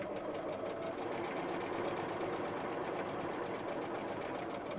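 A sewing machine runs steadily, stitching down a fabric bread bag in a continuous mechanical whir with no pauses and no talk.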